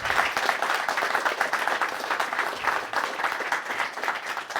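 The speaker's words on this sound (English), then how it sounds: "can we have a big round of applause, please," Sustained applause from a meetup audience after a speaker's talk on software architecture, dense steady clapping filling the room with no voices over it.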